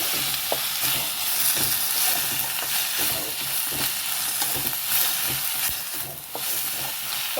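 Chopped tomato and onion fry in a pan for mushroom gravy, giving a steady close sizzle throughout with intermittent scraping and stirring clatter, no voices.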